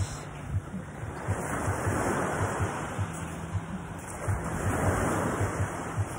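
Ocean waves at Palani Beach in Balud, Masbate at low tide, a steady roar of surf with heavy wind buffeting the microphone throughout, no talking.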